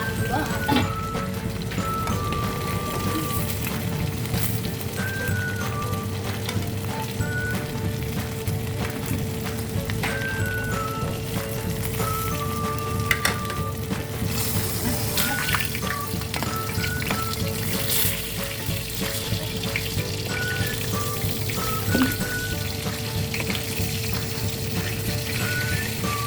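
Milkfish frying in a pan, a steady crackling sizzle with small spits and pops throughout, close and continuous, with faint clatter and occasional background sounds.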